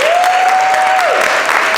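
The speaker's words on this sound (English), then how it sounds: "we once again give everyone a collective round of applause" Audience at a City of Paterson employee appreciation event gives a dense, steady round of applause, with a sustained tone sounding over the clapping before it drops away.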